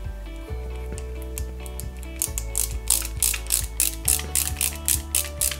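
Ratchet screwdriver driving small screws into an orange boost manifold on a Lancia 037 scale model kit, a series of close, rapid clicking ratchet bursts repeating in short rhythmic runs, with no talk.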